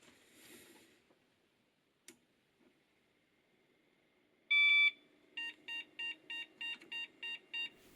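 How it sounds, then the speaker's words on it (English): A 386DX PC motherboard sounds its POST error code: one longer beep and then eight short, evenly spaced electronic beeps in a row, clear and close against near silence after a few faint clicks. "These are 8 beeps in a row, which means missing graphics card"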